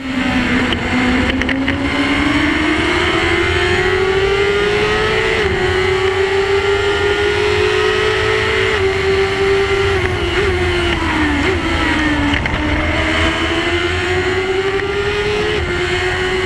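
Race cars at turn 1 of the Cremona circuit during a race, a loud close engine drone rising and falling in pitch as the cars accelerate and hold revs, continuous throughout.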